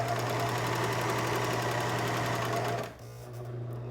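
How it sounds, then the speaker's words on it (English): A serger sewing machine runs at a steady fast whir while it stitches and trims fabric for paperless towels, loud and close, then stops abruptly near the end, leaving a quieter hum. "the serger will just cut off anything that isn't straight"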